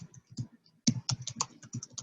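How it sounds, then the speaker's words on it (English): Quiet, close typing on a computer keyboard, irregular bursts of keystrokes with short pauses, no voices. "So as I'm typing in the idea, I see it listed right below."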